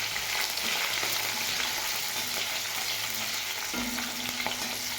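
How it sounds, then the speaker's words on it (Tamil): Dried turkey berries (sundakkai vathal) fry in a pan for vatha kuzhambu, giving a steady, close, dense crackling sizzle that runs unbroken throughout with no talking. "இப்போ வெறும் சுண்டவத்தல் தான் வதக்கிருக்கோம்"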